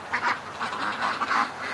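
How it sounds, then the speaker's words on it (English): A flock of ducks quacks inside a pen, a dense, continuous chorus of overlapping quacks and honks with short louder bursts and no voices over it. "There's a bunch of ducks on the left-hand side of the pen."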